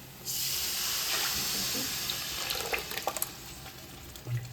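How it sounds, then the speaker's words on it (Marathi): Lentil water is poured into a pan of fried spices for amti, a steady splashing gush starting abruptly and running several seconds, then trailing off into a few light drips and clinks. "डाळीचं पाणी घालणार आहे."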